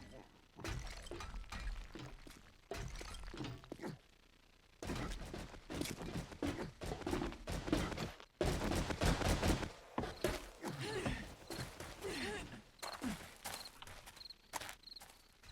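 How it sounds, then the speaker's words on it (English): Rapid bursts of video game gunfire with shattering and breaking impacts, from a 7 Days to Die session at ultra settings, crackling loudly in clustered volleys with brief lulls while someone speaks over the action. "Okay, here's some gunfire."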